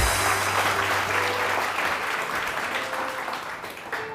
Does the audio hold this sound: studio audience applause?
yes